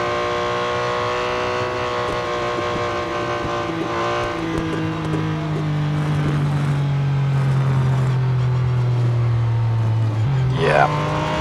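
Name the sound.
race car engine in Real Racing 3 video game, Le Mans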